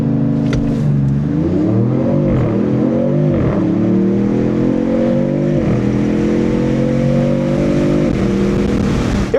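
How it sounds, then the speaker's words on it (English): A 2026 Dodge Charger Scat Pack launches hard under launch control in all-wheel drive, the engine roaring loudly and climbing through repeated upshifts, each gear pulling the pitch up before dropping, close and continuous with no talking. "So we're gonna actually hit launch control."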